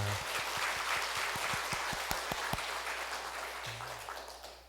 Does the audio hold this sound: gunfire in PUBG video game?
no